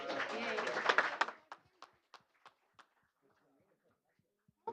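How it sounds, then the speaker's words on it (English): Applause at a city council meeting: a loud burst of clapping mixed with voices, thinning into a few scattered single claps that fade to near silence, with one last clap at the end. "Let's give him another round of applause."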